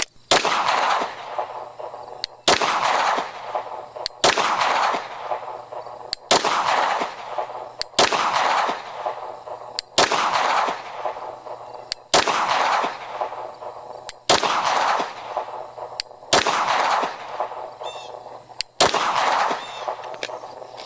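Shots from a Shadow Systems DR920 Elite pistol with a 4.5-inch barrel ring out at an outdoor range, about nine sharp, loud reports spaced roughly two seconds apart, each with a ringing tail.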